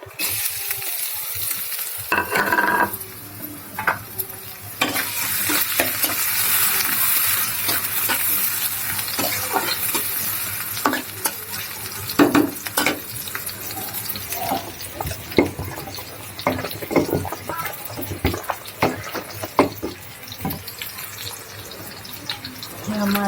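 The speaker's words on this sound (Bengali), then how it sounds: "তেল দিয়ে দেবো প্রথমে চুলার উপরে কড়ার উপরে তারপরে দেবো পেঁয়াজ রসুন" Onion and garlic fry in oil in a wok on a home stove, giving a loud, steady crackling sizzle. It runs throughout, with scattered clicks and scrapes from stirring and a brief quieter moment at the start.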